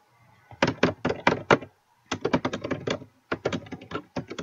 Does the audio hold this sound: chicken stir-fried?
no